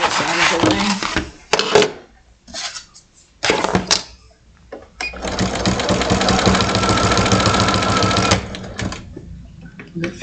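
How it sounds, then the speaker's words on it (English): A sewing machine stitches in the ditch, starting with short stop-start bursts of motor whir, then running in a long steady stretch before stopping; talk is heard between the early bursts. "we're going to sew a stitch in the ditch"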